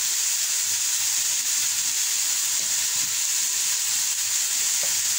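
Chicken sizzling in a pan as spices go in, a steady, even frying hiss that holds at moderate loudness from start to finish with no voices.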